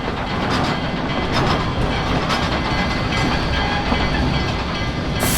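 Riding in a passenger car behind Denver & Rio Grande Western steam locomotive 491 at the Colorado Railroad Museum, with a loud, steady rumble of wheels, rhythmic clickety-clack over rail joints and faint hissing throughout.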